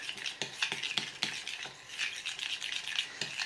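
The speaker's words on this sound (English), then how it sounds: "stirring not only helps cool the mixture a little more quickly, but it also agitates the crystals" Chocolate being stirred as it melts during tempering, a spoon scraping and swirling through the thick mixture in a bowl with repeated soft strokes, close and steady, no voices.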